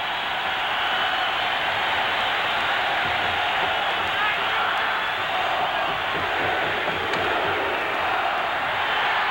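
Dense, steady crowd roar from a packed ice hockey arena at Madison Square Garden during a 1981 Islanders–Rangers game, loud and continuous for the whole stretch with no pause.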